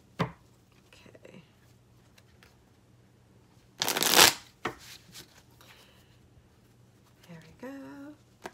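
Rebel Deck tarot cards are shuffled close up in one loud riffle burst, with softer handling taps and quiet murmured speech around it.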